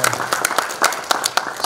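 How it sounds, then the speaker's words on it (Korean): Scattered clapping from a forum audience welcoming a pastor before his lecture, a brief, uneven patter of separate claps rather than a full ovation. "그래서 여러분 다시 한번 강연 전에 뜨거운 박수 부탁합니다."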